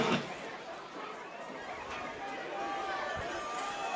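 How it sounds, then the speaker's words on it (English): A home high school football crowd with the band on its feet cheers on the defense at a JD game against Berrien County. A steady, broad roar of many voices rises toward the end, with a voice heard over it. "Listen to the Jacket crowd getting up."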